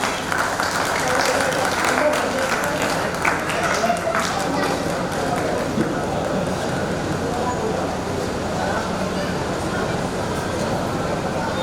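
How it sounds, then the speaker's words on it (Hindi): Sustained applause fills an awards ceremony at a Maithili comedy anniversary event. It is loud and continuous for about twelve seconds, with a dense crowd wash and scattered sharper claps. "जोरदार ताली होबाक चाही"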